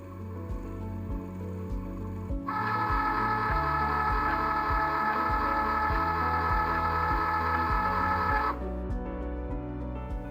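A Cricut cutting machine runs its self-test after first being switched on: a steady mechanical motor whir with a sustained mid-pitched tone and repeated clicking carriage movements, close and continuous, with no talking.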